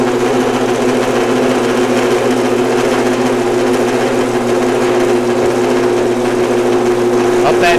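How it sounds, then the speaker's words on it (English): A honey pump in a honey house runs steadily, pushing honey up a tube, a loud constant motor hum with a fixed pitch throughout. "the pump kicks on and it pumps the honey up this tube over here"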